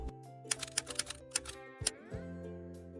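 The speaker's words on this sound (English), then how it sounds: "A classroom full of students learning to type. 30 machines going at once" Many typewriters clacking together in a 1950s American classroom of typing students, a burst of irregular keystrikes and carriage sounds building then fading, ending in a sustained tonal hum.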